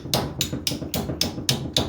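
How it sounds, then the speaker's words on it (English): Ratchet handle used as a makeshift hammer to drive a tight-fitting part into place while preparing parts for a Case 680CK backhoe: seven sharp metallic strikes at a steady, even rhythm, close and loud, with no talk. "we'll use the ratchet handle like a maniac hammerhead that we are"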